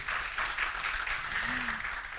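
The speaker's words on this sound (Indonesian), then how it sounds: "Tepuk tangan lagi." An audience at a university student orientation event claps steadily in a dense burst of applause, with a brief vocal sound near the end.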